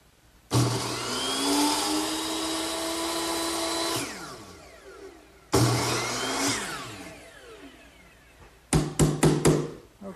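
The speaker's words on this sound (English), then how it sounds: "I'll just take it over to my miter box, which has been set at the right angle, and this is where I'll make all my cuts." A power miter saw cuts window stop molding for a corner cupboard: two loud, close whines as the blade spins up and runs through the wood, each winding down, then a quick series of sharp knocks at the end.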